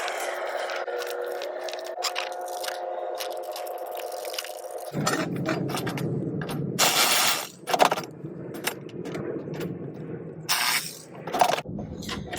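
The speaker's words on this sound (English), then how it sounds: "I'm just mounting these loosely for now, just in case I need to make some adjustments" Metal running board brackets being fitted loosely to a Toyota Tacoma: a steady hum gives way to repeated clinks, scrapes and jangling hardware, with sharp metallic taps around the middle and end, close and fairly quiet.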